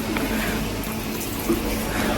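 A mall washroom tap runs in a steady close stream of water while someone washes their face, with a few soft splashes and no talking.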